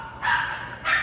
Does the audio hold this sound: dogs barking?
yes